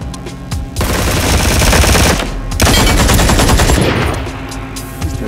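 Sustained automatic gunfire in the Ring of Elysium shooter game, dense rapid bursts filling nearly the whole stretch, loud and close with a brief lull partway before the firing resumes.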